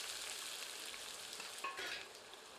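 Onions frying in oil with whole cumin over medium heat give a steady, close sizzle with a brief stirring scrape near the end, no voices.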